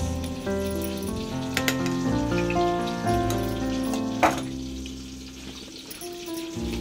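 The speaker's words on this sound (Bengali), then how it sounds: "এখন দিয়ে দিচ্ছি আদা রসুন পেস্ট" Two spoonfuls of ginger garlic paste hit a hot pan and sizzle steadily, a soft frying crackle with a few sharper pops, all under loud tonal background music.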